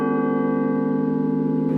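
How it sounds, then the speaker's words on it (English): Large bell in London's Elizabeth Tower, Big Ben, sounding a sustained resonant tone, a steady rich ringing hum with layered overtones that holds loud and even throughout without any voices. "that bell will sound out across the city, out across London"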